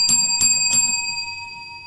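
A small bell rings three times in quick succession, fairly close and clear, its bright tone lingering and fading after the last strike with no talk over it.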